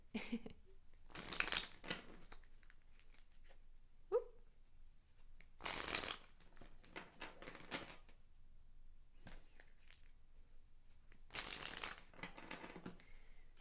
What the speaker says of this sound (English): Let's go ahead and get a chakra card for each viewer